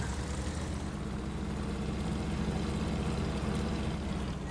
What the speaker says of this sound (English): Combustion engines have an interesting sound to them, which I've always enjoyed.